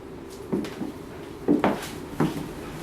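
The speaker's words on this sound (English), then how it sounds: "Double sliding closet doors." Double sliding closet doors in a house bedroom roll and bump, making several short wooden knocks and thuds in quick pairs, close by in a quiet room.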